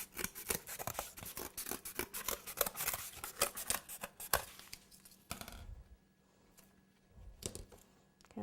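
Scissors snip repeatedly in quick, close, crisp cuts, trimming a decoration on a trophy-shaped cake, then the snipping slows to a few sparse cuts near the end.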